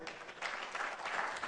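A brief burst of dense applause rises from a conference audience in Banjul, The Gambia, after a professor's talk, steady and fairly close.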